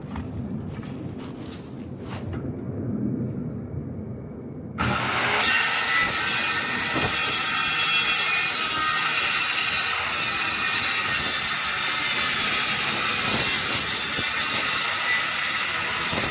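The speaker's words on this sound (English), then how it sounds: "I'm gonna cut the ply to length" Plywood is cut to length for a 2000 Skyline Layton Lite travel trailer roof repair. After a quieter lead-in, a loud, continuous, rasping cut starts suddenly and runs steadily to the end.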